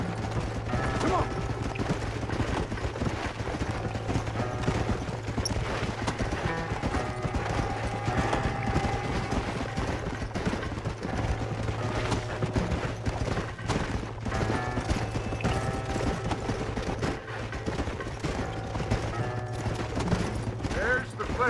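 Steady clip-clop of horses galloping in Red Dead Redemption, a continuous rhythmic hoofbeat under game music and voices talking.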